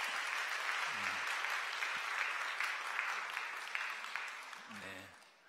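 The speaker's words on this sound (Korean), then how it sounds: "여러분들 환영의 박수 부탁드리겠습니다" A church congregation claps in welcome during a Sunday service, a steady wash of applause with brief low voices breaking through near the start and end, fading slightly at the close.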